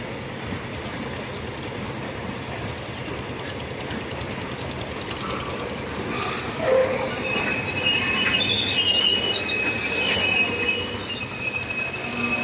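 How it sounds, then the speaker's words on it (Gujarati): A passing train's wheels squeal in a sustained high-pitched screech while switching tracks from platform two onto the main line, over a steady rolling rumble, growing slightly louder toward the end. "પાટા બદલે છે બે નંબર પ્લેટફોર્મ ઉપરથી મેન લાઈનમાં થાય છે જાય છે ગાડી"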